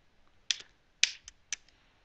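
Three crisp keystrokes on a computer keyboard as a command is typed, evenly spaced about half a second apart, close and clear against near silence.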